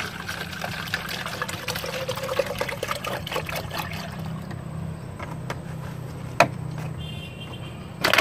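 Rice-washing water is poured for a JAKABA mushroom-spawn mix, giving a continuous close trickle and splash with a few sharper knocks, with no voices.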